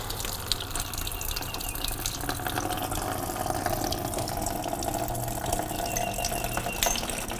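Coolant drains from the radiator of a 2004–2007 Honda CBR1000RR during a flush, a steady trickling splash into a catch pan lasting several seconds, even and fairly close with no talk.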